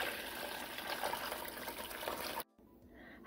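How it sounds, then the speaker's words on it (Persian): Water poured into a cooking pot for a Persian cold-remedy soup, a steady close trickling pour lasting over two seconds before stopping abruptly, followed by a quiet tail. "حدود 6 پیمان آب رو هم توی مرحله اضافه میکنیم"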